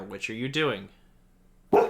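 A dog barks sharply at the end, loud and close, right after a short stretch of speech and a quiet pause.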